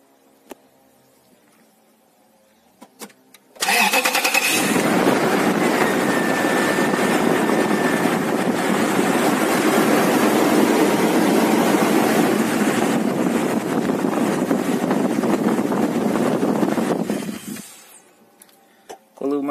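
A car engine's steady drone starts abruptly, runs loud and constant for about fourteen seconds, then winds down and stops; a few faint clicks come before it.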